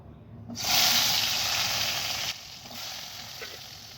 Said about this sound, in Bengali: আমার তেল গরম হয়ে এসেছে এ পর্যায়ে আমি বেগুনে একটু হলুদ আর লবণ মেখে নিয়েছি সেটা একটু ভেজে